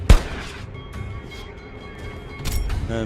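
A tank cannon fires in World of Tanks Generals, a sharp loud boom at the start followed by a rumbling tail, with a second heavier blast near the end over steady game ambience.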